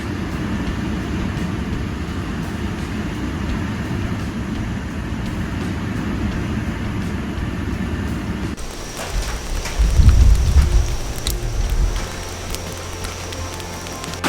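Steady rain outdoors at a cabin build site during tornado-warning weather, a constant hiss that shifts midway with a deeper rumble swelling briefly, as if wind or a passing vehicle joins the downpour.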